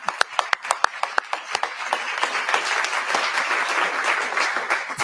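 An audience applauds at a pre-K announcement event in Louisville, beginning with a few sharp separate claps that quickly fill into dense, steady clapping from a crowd.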